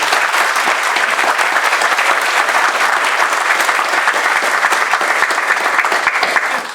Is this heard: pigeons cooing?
no